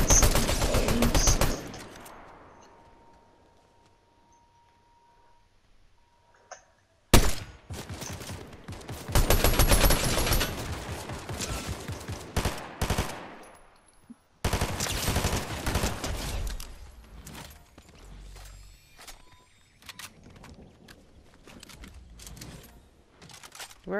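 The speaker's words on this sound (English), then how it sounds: "there's somebody else shooting at me over here" Fortnite Chapter 5 Season 1 Zero Builds gunfire comes in loud bursts of repeated shots separated by quiet gaps, with a sudden sharp barrage partway through and scattered shots trailing after.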